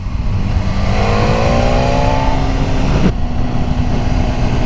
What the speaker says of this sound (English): I just want to get more of that external exhaust engine note that I can play over the videos